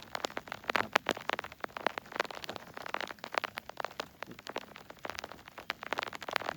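Rain falls on farmland in a Thai rice-farming setting, a quiet, steady patter with dense crackling drops and no voices.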